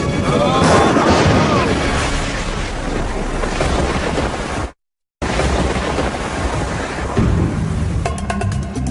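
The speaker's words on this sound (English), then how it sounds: "And could this be Earth's most powerful lightning?" Thunder from a powerful lightning storm rumbles loud and broad, a dense roar blended with wind and water noise, cut by a brief gap of silence before the rumbling resumes.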